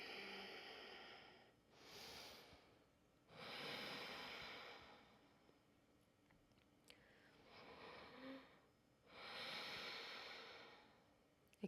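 A yoga teacher imitates ujjayi ocean breathing in a quiet room. Four slow, soft, breathy rushes rise and fade at an unhurried, even rhythm.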